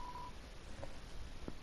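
A few short dial tones from a landline telephone in the game Deltarune, faint beeps spaced apart over a quiet background, one longer tone first then two brief presses.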